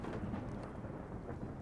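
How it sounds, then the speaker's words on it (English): Thunder in the video game Skyrim with the Vivid Weathers mod: a steady, dense low rumble with rain-like hiss, fairly faint and continuous with no talk. "This thunder is very loud."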